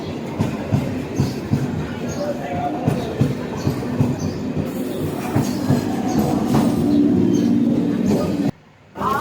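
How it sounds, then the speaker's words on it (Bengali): A train pulls into a station platform with a loud, continuous rumble and rhythmic wheel clatter, while people talk nearby, before the sound cuts off abruptly. "গল্প করতে করতে ট্রেন চলে এসেছে"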